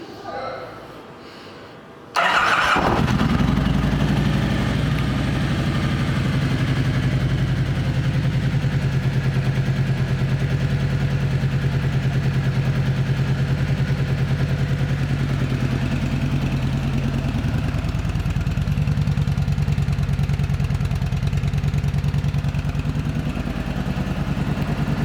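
A 2009 Kawasaki Vulcan Voyager motorcycle engine starts after a brief pause and then idles steadily with a low, even rumble and faint mechanical clatter, close and loud, continuing alone to the end.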